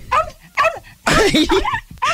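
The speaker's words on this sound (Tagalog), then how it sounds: "Ayoko yung mga aso mo." Dogs barking, heard as several short, loud, close yelping bursts separated by brief pauses.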